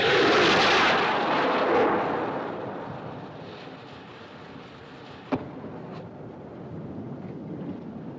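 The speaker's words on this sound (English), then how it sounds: "I wonder what a ship like that would want to fire rockets for." A distress rocket launched from a ship in the 1997 film Titanic gives a loud, wind-like rushing burst at the start that fades, followed by a single sharp crack near the middle and a fainter pop after it.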